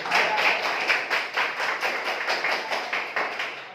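Scattered, light applause from students in a classroom during a geography quiz, steady patchy clapping throughout with a few sharper individual claps, no talking.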